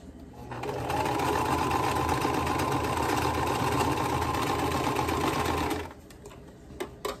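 A sewing machine stitches a quilt block in one sustained close burst of rapid, even needle chatter and motor hum lasting about five seconds, then stops, followed by a few faint handling clicks.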